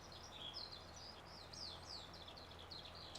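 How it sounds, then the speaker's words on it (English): Farming Simulator 22 plays faint backyard bird recordings as game ambience: high chirps and twittering song phrases repeat steadily over a soft, constant background hiss. "Can you hear the birds? I love the bird sounds."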